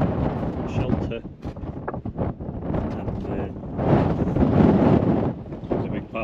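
Strong gusting wind buffets the microphone near the summit of Carnedd Llewelyn, a loud, uneven rushing roar that swells and dips throughout.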